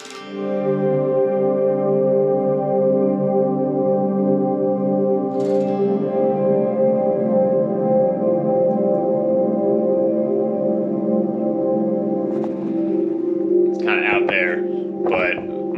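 Electric guitar ringing through heavy echo and reverb, notes smearing into a lush sustained wash, with a few sharp percussive hits near the end.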